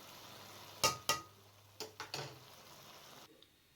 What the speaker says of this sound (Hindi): अब इस तरीके से आपने अच्छे तरीके से तमाम चावलों को मिक्स कर लेना है।